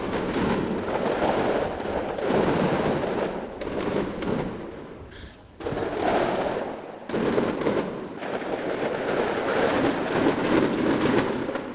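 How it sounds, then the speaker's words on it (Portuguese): A long, dense barrage of fireworks crackles and booms over a residential neighborhood in Curijica, continuous rapid bursts with a brief lull midway before the volley resumes just as loud, no voices. "Após a morte do jovem, foi iniciada uma sequência de fogos de artifício."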